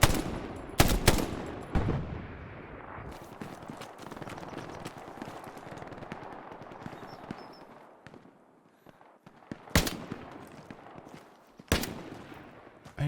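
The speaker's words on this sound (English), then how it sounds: "Who's shooting?" Gunfire in the World War II shooter game Hell Let Loose comes as scattered rifle and machine-gun bursts, a few loud sharp cracks standing out over a steady field of distant rattling shots and battlefield noise.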